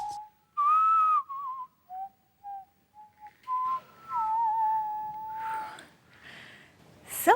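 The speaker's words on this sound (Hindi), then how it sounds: "मैंने नहीं बजाई सर, मुझे तो सीटी बजाना आता ही नहीं है।" Several whistled tones, some gliding and some held, come one after another in a quiet indoor scene from a CID crime drama, with brief gaps between them and a louder, sharper whistle near the end.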